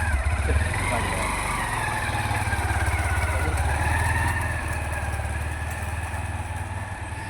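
A motorbike engine idles steadily and close by, a low continuous throb that holds for about seven seconds while people talk over it.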